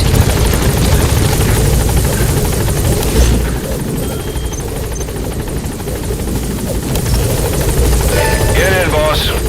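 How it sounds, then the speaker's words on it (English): A support helicopter arriving at the landing zone in Metal Gear Solid V: The Phantom Pain gives off a loud, steady rotor drone throughout, with a radio voice speaking near the end. "Support helicopter has arrived."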